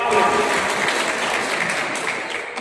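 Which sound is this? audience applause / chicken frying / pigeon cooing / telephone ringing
audience applause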